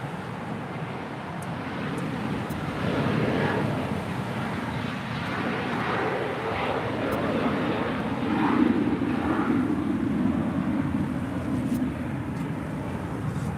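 A Lufthansa airliner taxis toward the Tom Bradley gates at LAX, a distant, steady low jet rumble with wind buffeting the microphone throughout.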